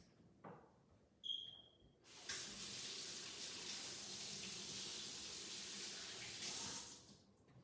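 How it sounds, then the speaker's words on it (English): A kitchen tap gushes steadily into a sink while hands are washed under it, close and continuous for about five seconds after a few clicks and a short beep, then shut off. "I'm gonna wash my hands."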